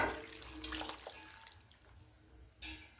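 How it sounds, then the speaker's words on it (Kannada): About four glasses of water go into a pressure cooker for sambar, a soft close splashing pour that comes in short bursts over a few seconds and is fairly quiet. "ನಾನು ಇವಾಗ ಇದಕ್ಕೆ 4 ಗ್ಲಾಸಷ್ಟು ನೀರು ಹಾಕ್ತಾಯಿದ್ದೀನಿ"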